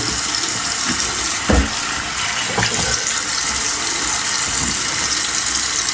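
Running tap water pours steadily for a rinse after shaving, a loud, continuous splashing gush with a few brief surges as hands move under the stream, and no talking.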